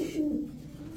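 A large Silver Babra pigeon of an old breed coos close by in one low, steady, droning call, with no talk over it.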